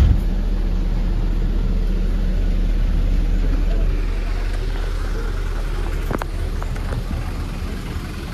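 Morning Kalingga Jaya intercity bus on the Jakarta–Kudus route idles and rolls nearby, giving a steady, loud low engine rumble with continuous road noise throughout and a slight easing in level toward the end.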